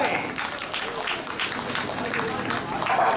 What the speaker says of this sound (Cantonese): 掌聲歡迎咁多位！